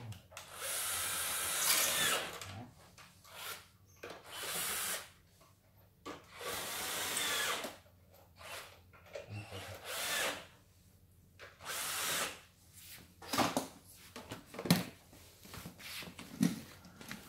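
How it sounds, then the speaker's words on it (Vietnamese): A power drill backs large screws out of a heavy audio speaker cabinet, running in several whirring bursts of a second or two, separated by quiet pauses and small clicks and handling noises, close and alone. "Ok, tôi đã thao tác 4 con ốc rất lớn, 4 con ốc 8."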